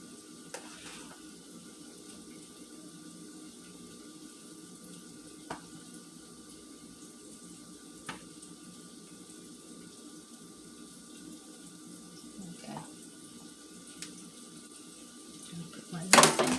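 Hot water runs steadily from a kitchen sink tap as a low, continuous wash, with a few faint clinks and taps over it and a louder clatter near the end.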